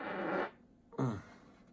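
A single loud fart bursts out close to the mic after a short rumbling lead-in, then trails off into quiet room tone.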